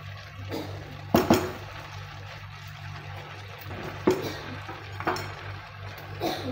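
Prawn fried rice is stirred in a pan, with several sharp metallic scrapes and clinks of a utensil against the pan spaced out over a soft background hum.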